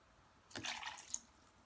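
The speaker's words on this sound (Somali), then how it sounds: "waxaan ku darayaa kanoo biyo ah" A brief burst of splashing water poured into thick hummus, starting abruptly and trailing off into a few soft drips, close by and otherwise quiet.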